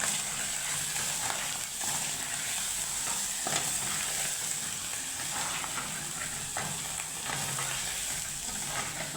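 Coriander powder masala with ginger-garlic paste sizzles and fries in oil while being stirred for a yam curry, a continuous close hiss with soft scraping stirs throughout and no talking.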